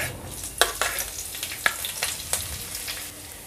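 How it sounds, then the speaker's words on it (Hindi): Green chillies sizzle in hot oil in a pan while sabudana khichdi is being made, with several sharp crackling spits and pops over a steady frying hiss, close and fairly quiet, with no talking. "अब इसमें हम डाल देंगे हरी मिर्च।"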